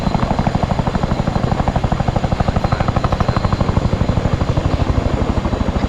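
Helicopter in the video game Arma 3 drones steadily and loudly, its rotor thumping in a fast, even beat over a constant engine whine with no talk.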